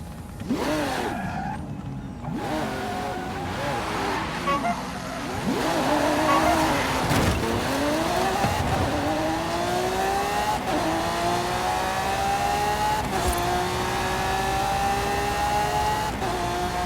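Race car engines roar through a video game race against a Ford Fiesta, with sustained loud revving that rises and falls through repeated gear shifts and tire squeal, and no talk over it.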